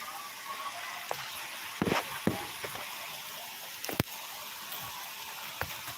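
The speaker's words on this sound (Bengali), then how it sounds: "খুব জোরে জোরে পানি হচ্ছে" Heavy rain falling outdoors, a dense steady hiss of water with occasional sharper splashes and knocks, fairly faint, with no voices.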